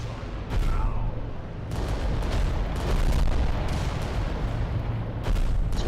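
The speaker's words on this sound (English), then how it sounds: "These volcano cannons are awesome." Volcano cannons firing in the Adeptus Titanicus: Dominus video game, a series of heavy booming blasts over a rumbling battlefield bed, several loud hits spaced a second or so apart.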